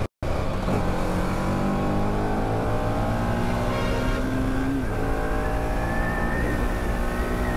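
A car engine drones steadily while overtaking another vehicle at about 40–50 km/h on a road, its hum holding level and then rising in pitch as it pulls ahead, with no talking.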